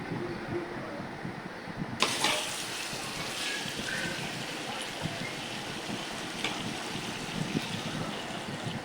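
Water poured into a pot of beef and potato curry, a steady broadband wash of pouring and bubbling that begins abruptly about two seconds in and carries on evenly to the end, close and moderately loud.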